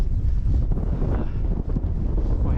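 Breezy wind buffets the microphone on a hazy Peak District hillside in the Goyt Valley, a loud, continuous rumbling gust with no talk.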